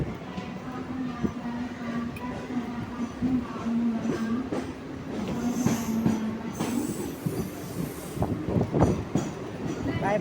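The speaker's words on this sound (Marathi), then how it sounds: "आमची ट्रेन चालली बघा आता" Mumbai local train pulls out of Virar station with rolling wheel clatter, rhythmic clicks and squeal, heard close from inside the carriage under a steady rumble.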